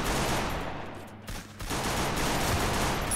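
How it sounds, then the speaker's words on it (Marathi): Gunfire in the Free Fire video game on the Kalahari map during a ranked match, a dense, continuous fusillade of rapid shots that briefly dips before resuming at full loudness. "पलीकडून एक फायर मारायला लागले फटफट"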